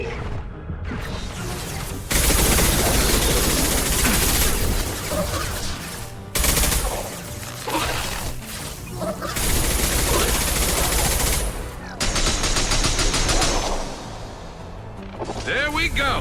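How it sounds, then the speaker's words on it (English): Heavy, sustained gunfire from a Mass Effect 2 firefight, with loud rapid bursts and volleys that run almost without a break, a few short lulls between them, and voices over the shooting. "Taking heavy fire."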